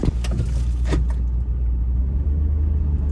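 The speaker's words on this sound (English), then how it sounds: "We're gonna see how this truck does in the snow." A pickup truck with rebuilt four-wheel drive moves through snow during a heavy storm. A low, steady engine rumble runs close by throughout, with brief rattling and clunking bursts in the first second.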